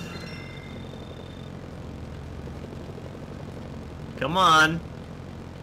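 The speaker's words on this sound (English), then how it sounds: "Dang, look at that helicopter" A helicopter in the video game Mercenaries: Playground of Destruction gives off a steady low rotor and engine drone that runs throughout, and someone speaks briefly near the end.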